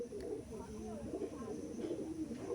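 Low, throaty cooing from a male Madras pigeon, repeated in soft rolling phrases, fairly close and quiet against faint background noise.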